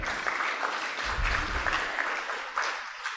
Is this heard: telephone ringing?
no